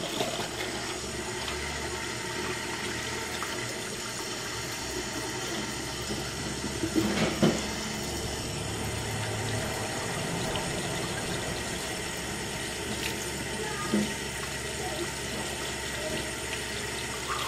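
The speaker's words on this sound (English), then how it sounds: "I'm going to turn the water on very slowly" Water runs from a tap in a steady, continuous rush, close by and moderately loud, with a few faint knocks along the way.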